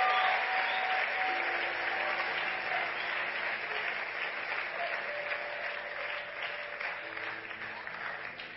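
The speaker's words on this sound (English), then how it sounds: "Come on, clap for Jesus." A church congregation claps continuously at a sermon, a full steady round of applause with a sustained tone humming beneath it, fading slightly toward the end.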